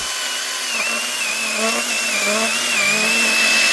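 A chainsaw cuts through birch wood with a steady high engine whine that climbs slightly in pitch as the chain bites deeper, loud and close and heard alone.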